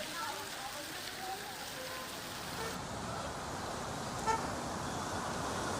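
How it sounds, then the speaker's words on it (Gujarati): Rain falls steadily over Surat, a constant soft hiss of drops on surfaces blended with passing road traffic and a brief car toot. "સુરતમાં હાલમાં વરસાદ પડી રહ્યો છે"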